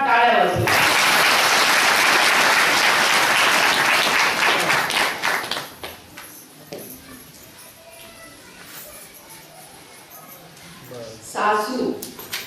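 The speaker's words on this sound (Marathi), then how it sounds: "त्यांच्यासाठी आपण जोरदार टाळ्या वाजवू" A hall audience at an awards event for mothers- and daughters-in-law breaks into loud sustained applause for about five seconds, which fades into scattered claps and murmurs before a brief second burst near the end.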